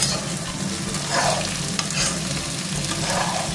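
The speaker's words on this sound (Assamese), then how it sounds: "এই ৰঙালাও অকণ দি দিছোঁ একেলগে ভাজি থাকা" Pumpkin pieces fry in a pan with a steady broadband sizzle and occasional stirring scrapes, close and continuous with no voices.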